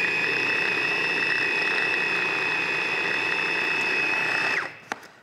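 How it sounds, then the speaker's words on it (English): A blender whirs steadily while mixing flour into galette batter, a loud continuous motor whine with strong harmonic tones that runs for several seconds and then cuts off abruptly, followed by a couple of brief knocks. "so that goes all in together and we just blend it up"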